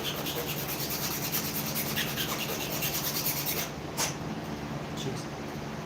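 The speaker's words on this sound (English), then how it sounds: "We got to do a little filing." Parts of a toy blaster being filed by hand: a close, steady rasping and rubbing that continues with little break, a short pause near the four-second mark, then resumes more faintly.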